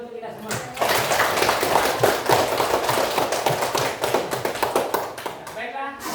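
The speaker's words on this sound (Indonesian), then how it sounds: "tepuk tangan dulu untuk kita semua" Classroom applause from students after correct answers, a dense burst of many hands clapping for several seconds, loud and close.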